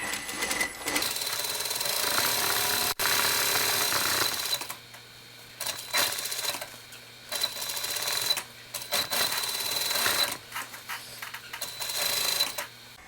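A sewing machine stitches a French seam on a side seam pocket in several bursts of rapid, rattling needle clatter lasting one to two seconds each, with short pauses between, close and clear, no talking.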